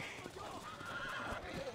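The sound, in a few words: horse neighing in a video game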